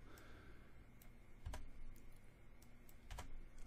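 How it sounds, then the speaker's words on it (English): Keys are pressed on a computer keyboard, including backspace and delete, with soft clicks scattered over a quiet room and two heavier thumping key strikes standing out. "backspace, delete them."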